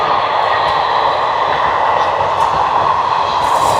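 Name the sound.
electric train passing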